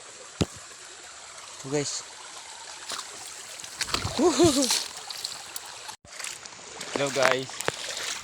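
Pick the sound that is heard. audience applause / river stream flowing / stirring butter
river stream flowing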